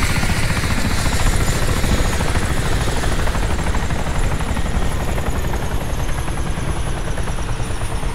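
An aircraft engine in the DayZ Namalsk video game drones loud and close, a continuous pulsing propeller roar holding steady throughout with no voices.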